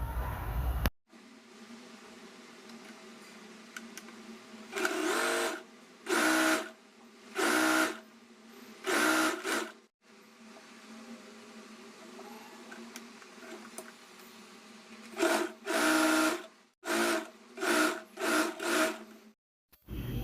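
A sewing machine stitches a quarter-inch folded seam on a blouse in repeated short bursts, each a whirring run of a second or so separated by quiet pauses, with a steady hum between and no talking.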